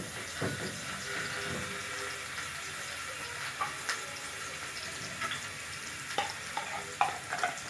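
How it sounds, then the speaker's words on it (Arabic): Garlic cloves frying in a shallow pool of hot oil in a pan, a steady close sizzle with occasional stirring scrapes and small pops, no voices. "هنسخنها وهننزل بفصين توم بالعدد، فصين توم ناعمين بالعدد"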